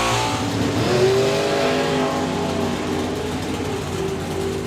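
A drag racing car at the FIA FIM Main Event launches softly down the strip, its engine building power toward the top end. A loud, continuous, rising roar carries with no voices.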